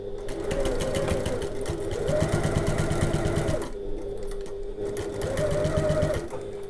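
Sewing machine stitching mesh on a tote bag with a regular stitch length, a steady close mechanical whir and rapid needle clatter running continuously with slight speed changes.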